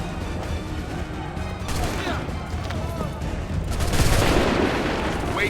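Musket volleys crack out in an Assassin's Creed 3 battle, with several loud, rolling bursts of massed gunfire spread over a few seconds against a constant din of battlefield noise.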